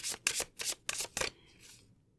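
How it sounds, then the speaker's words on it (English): A deck of oracle cards is shuffled in several quick riffling bursts, crisp and close, before fading to quiet rustling. "Key Oracle being shuffled."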